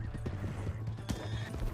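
Galloping horse hooves clip-clop in quick rhythm with a short whinny in Red Dead Redemption 2, close and fairly loud, with a faint voice in the background.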